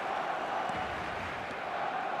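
Stadium crowd noise from an eFootball match, a dense, steady roar of distant supporters holding at an even level without clear peaks.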